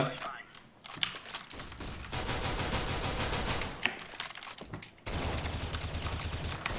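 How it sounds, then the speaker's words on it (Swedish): Rapid automatic gunfire in a competitive Counter-Strike: Global Offensive match: dense, loud, continuous bursts of shots, broken by brief lulls near the start and about two-thirds of the way through. "Nu slösar jag alla mina skott på det."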